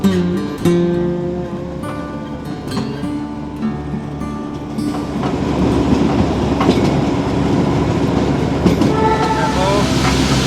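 The Darjeeling toy train on the run from Siliguri to Rongtong rumbles and clatters loudly from close by, with a rhythmic clickety-clack of the wheels and the noise rising as it picks up speed.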